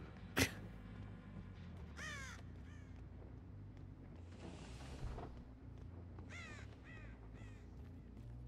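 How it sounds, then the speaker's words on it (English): Crow calls ring out in the Dead by Daylight horror game, several harsh caws in separate bursts across the stretch over a steady low ambient drone, with one sharp thump near the start. "Bird."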